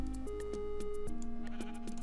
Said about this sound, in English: Hello, sheep, you're still here.